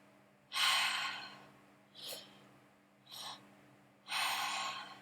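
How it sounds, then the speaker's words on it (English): Three-part breathing: a close, breathy sequence of four airy bursts, drawing air in through the belly and then the chest before releasing it through the mouth, each breath separated by quiet pauses. "the 3-part breathing goes into your belly, into your chest, and then you let it go through your mouth"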